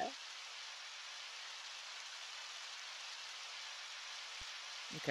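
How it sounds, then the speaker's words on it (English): Steady rain in the Undertale video game makes a constant hissing wash, even and unbroken for several seconds with no talk over it. "so it's just raining"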